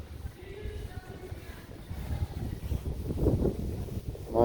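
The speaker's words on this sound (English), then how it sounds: "here comes the wind again" Gusty wind buffets a microphone outdoors on a walk around the Morro Bay, California waterfront, a low rumbling roar that swells and grows stronger toward the end.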